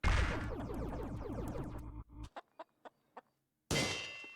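A freed bird in the video game Corn Kidz 64 clucks in a series of four or five short, spaced chirps. They follow a dense, rumbling clatter of game sounds, and a loud burst of noise comes after them.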